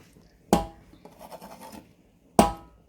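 Chopped onions drop into a cooking pot for a tomato stew, two sharp close thuds about two seconds apart with a soft scraping rustle between them.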